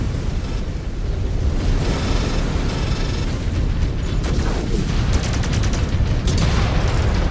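Mech weapons firing in Mechwarrior 5: Clans, a Clan Ghost Bear mech unleashing a loud, sustained barrage of booming shots and crackling impacts over constant heavy rumble, with a rapid burst of sharp cracks near the end.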